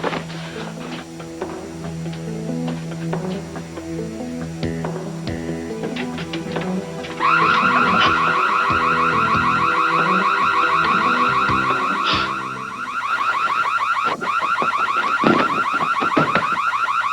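Loud electronic alarm with a steady, rapid pulsing tone, set off by a window being opened, blaring continuously over a low droning, shifting background for many seconds without any talking.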